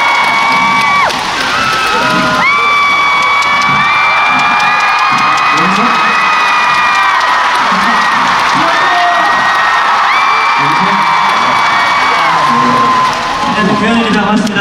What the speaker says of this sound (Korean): 여러분들 함성소리를 듣게 돼서